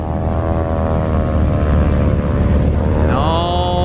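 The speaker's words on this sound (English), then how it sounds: "all the planes are getting lined up to leave" Propeller airplanes, including small planes such as a Piper Pacer and a Stearman, sit lined up at a dusty High Sierra airfield, a steady loud engine drone with a rising whine near the end.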